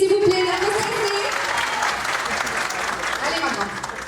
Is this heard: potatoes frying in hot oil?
no